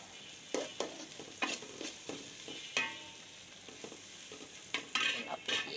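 Bottle gourd stirred into fried shrimp and spices in a pan: a quiet sizzle under repeated scraping stirs and sharp spoon knocks against the pot, spaced irregularly over several seconds, no voices.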